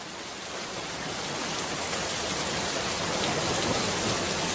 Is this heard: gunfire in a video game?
no